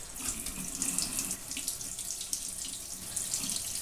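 Water runs steadily from a tap while hard-boiled eggs are peeled under it, a continuous hissing splash with no voices.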